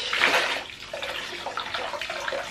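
Hair being rinsed under running water, a broad steady wash of flowing water splashing close by, continuous throughout with no talking.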